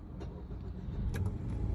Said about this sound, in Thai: เครื่องยนต์ติดนะครับ